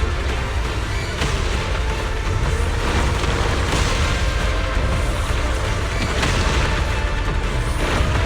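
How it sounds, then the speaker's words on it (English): Continuous rumbling booms and blasts from a video game battle, dense and loud throughout with repeated heavy bursts layered over a deep roar, no clear gaps between them. "Move in during the gaps between explosions."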